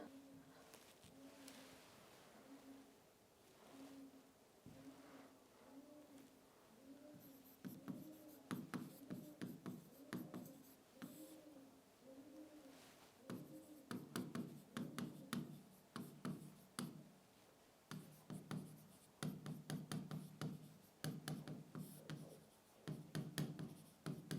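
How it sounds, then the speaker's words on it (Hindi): Chalk or marker writing a question on a classroom board during a Hindi grammar lesson, heard as irregular scratchy strokes and taps, soft at first and then busier and louder over a steady room hum. "इसका क्वेश्चन लिखेंगे हम यहाँ पहले"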